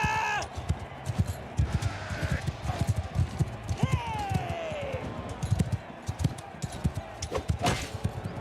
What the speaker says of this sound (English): I might grab a horse so I can